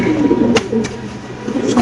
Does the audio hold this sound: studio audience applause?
no